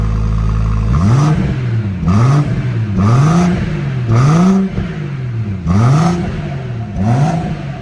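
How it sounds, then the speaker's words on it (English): A BMW M140i Shadow Edition with its sport-mode exhaust valve open is revved hard about six times in quick succession, each loud blip rising and falling with a rumbling idle between the revs. "So we'll give it a rev now."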